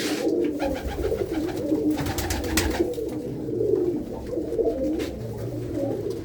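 Pigeons kept by a Punjabi family of fanciers coo in repeated soft, throaty bursts, close by and alone, with faint rustling in between.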